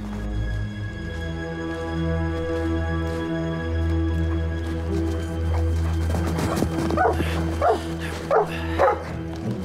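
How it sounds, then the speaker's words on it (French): A dog barks in a series of sharp yips and woofs over the last few seconds, near and moderately loud, following a sustained low droning tone at the start. "Tenez votre chien."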